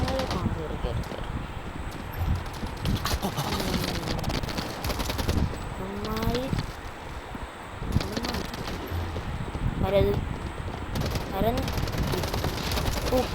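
Rapid bursts of gunfire crackle through a match of the mobile shooter Urban Heat, sharp repeated shots scattered across the span, with a player talking excitedly over them.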